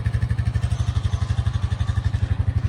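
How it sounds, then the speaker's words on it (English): An old Honda Ranger used as a tractor runs with an aerator hooked up, its engine chugging in a fast, even low thump, close and steady with no voices. "It's a tractor."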